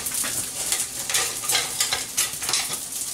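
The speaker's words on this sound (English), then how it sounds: "And then we're going to whisk our eggs." Seasoned eggs with salt and pepper being whisked in a bowl, a steady run of quick scraping taps close by, fairly soft and even throughout, no voices.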